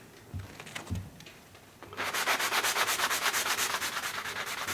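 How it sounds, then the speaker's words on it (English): Sandpaper rubs the end of a Squier P-Bass, starting with a few soft strokes, then settling into a brisk, steady back-and-forth rasp that stays close and fairly loud. "I'm going to do a little bit of sanding right here on the end."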